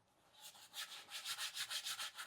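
A cloth rubs Odie's oil into a wooden cutting board in steady back-and-forth strokes, with a soft, close, rhythmic swishing that grows louder and more regular as it goes, with no talking.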